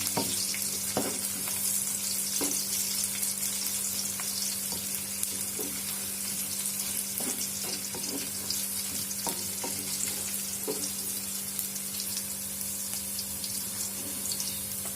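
Spices sizzle and fry steadily in a pan with bay leaves for a Javanese home-style vegetable dish, a continuous close crackle broken by occasional stirring clicks and scrapes.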